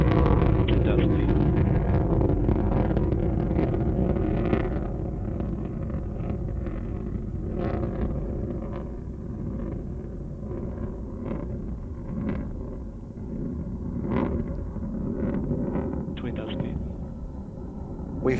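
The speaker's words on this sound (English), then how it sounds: "that BE-3 engine gets to flex its muscles, throttling down to reduce those stresses" Blue Origin New Shepard booster's BE-3 engine during ascent past max Q, a steady, dense distant roar and rumble with wind buffeting, heard beneath continuous commentary talk.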